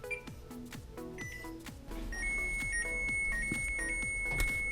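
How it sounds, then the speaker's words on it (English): A kitchen timer goes off while pumpkin seeds bake, giving a steady high electronic tone that holds for a few seconds over a low hum, after a run of clattering ticks and clicks. "Timer went off"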